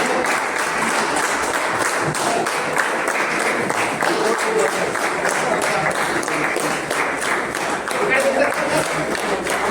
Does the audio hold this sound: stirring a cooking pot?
no